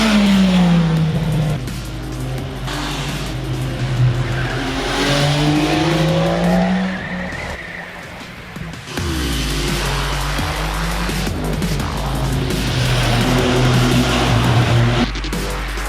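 An MV Agusta Rivale 800 three-cylinder motorcycle engine revs hard and climbs through the gears, rising in pitch, briefly backing off, then pulling up again, loud and close.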